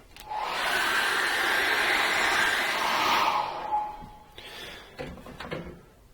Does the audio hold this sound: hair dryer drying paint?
yes